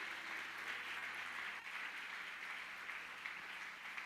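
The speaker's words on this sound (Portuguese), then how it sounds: "Dá uma salva de palmas a Jesus" A church congregation at a Sunday evening service claps together in a soft, steady wash of applause, faint and distant, holding evenly for a few seconds.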